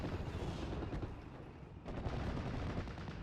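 Artillery from an FK288 field gun in Steel Division: Normandy 44 on Omaha, heard as dull booms and gunfire within a thick, steady battle din, with a sharper burst partway through.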